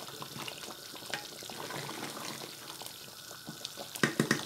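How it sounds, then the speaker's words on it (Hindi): Meatballs for kofta stew fry in a pan while a spoon stirs them, giving a low, continuous frying hiss with light scrapes and a few louder clinks near the end. "डाल के ना मैं अच्छे से भूनूंगी इनको तकरीबन 5-10 मिनट के लिए।"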